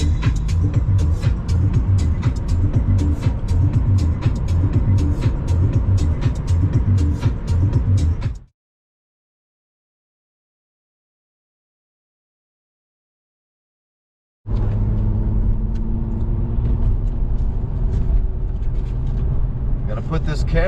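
A car drives along a road toward Mostar and Bosnia, heard from inside as a continuous low road and engine drone. The drone cuts out for several seconds of silence, then resumes, with voices faintly mixed in.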